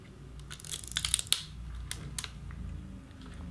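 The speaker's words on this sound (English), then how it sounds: "you get that nice satisfying click" A Rollei 35 compact 35mm film camera fires its shutter with a crisp mechanical click, joined by a few small ratcheting snaps, close up and otherwise quiet.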